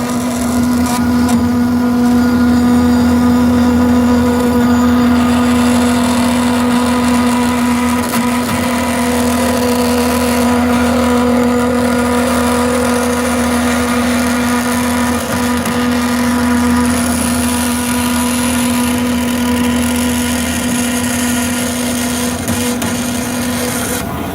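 A powered saw cuts steadily through a metal drill point gage, a loud continuous motor hum with a grinding, rubbing edge that holds without a break throughout, close by and with no voices.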